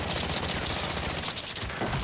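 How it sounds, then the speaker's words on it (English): Dense automatic gunfire in the video game Warzone rattles loudly and continuously, bursts overlapping into a near-constant fusillade with brief dips in level. "Oh, I'm getting shot from the right."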